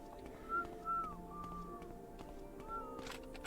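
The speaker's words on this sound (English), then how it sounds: "I hate that they whistle at me though." Characters in the role-playing game The Elder Scrolls III: Morrowind whistle a few short, rising and falling notes, three or four clear whistles over faint background hum and clicks.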